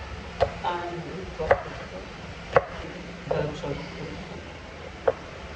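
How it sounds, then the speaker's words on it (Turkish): A knife chops a red pepper into cubes in a few separate, crisp strokes on a cutting board, spaced irregularly, over a low room hum with someone talking nearby. "Küp küp doğrayayım."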